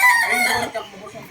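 A Dini Cuenca line chicken gives a short, loud, close cluck-like call, a single brief burst of fowl vocalization.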